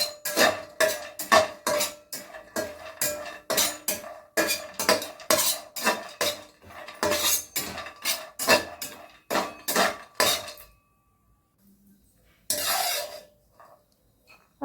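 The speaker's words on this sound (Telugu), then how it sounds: "దానిలో కొద్దిగా జీడిపప్పులు వేసుకోండి ఆ రెండింటిని బాగా వేయించండి" Cashews and coconut pieces fried in a pan and stirred steadily, a rapid run of scraping, rattling strokes for about ten seconds, then a pause and one last brief scrape, no voices.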